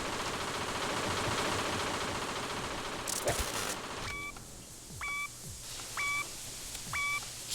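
Minigun fire in the video game PAYDAY, a dense sustained roar of automatic gunfire for about four seconds that abruptly drops away, followed by several short repeated electronic beeps.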